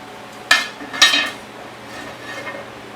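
A spoon clinks twice against a pot of simmering posole with pork, hominy and chickpeas, with sharp metallic scrapes up close over a faint bubbling background.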